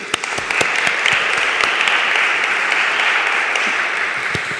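Loud audience applause at a conference event on women creators and technology, a dense sustained clapping with sharp individual claps standing out, steady throughout without speech.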